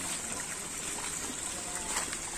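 A small waterfall trickles down from above into an ancient water channel in a forest, making a steady, close splashing rush with no voices.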